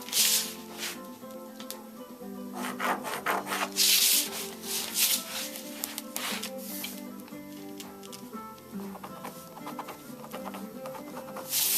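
A pencil traces a pants pocket pattern onto paper, making close scratchy rubbing strokes in uneven bursts with paper rustling between them.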